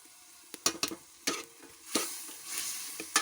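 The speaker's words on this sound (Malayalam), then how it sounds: "ഉലുവാലരി പൊടിച്ചതിട്ട് ഒന്ന് ഇളക്കി മറിച്ച്" Ground fenugreek-rice powder is stirred into a simmering fish curry, with several sharp spoon scrapes against the pot over a soft, low sizzle, near and fairly quiet, with no speech.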